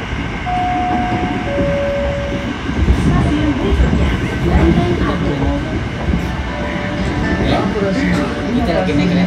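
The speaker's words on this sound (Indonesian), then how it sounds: "Kita lagi naik kereta ke arah Bogor." A KRL commuter train runs on the line between Jakarta and Bogor, with a continuous rumbling rail roar and faint wheel clatter heard from inside the carriage. People converse quietly under the steady noise.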